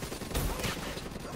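Gunfire in Black Ops 3 comes as a short, dense volley of shots with a louder crack near the start, set against busy game noise.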